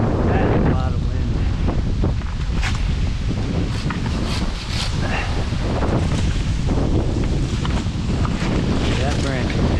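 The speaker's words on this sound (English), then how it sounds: "That's a lot of wind." Strong wind roars and buffets the microphone high up in a tall cottonwood tree, a loud, constant rushing with gusty surges throughout.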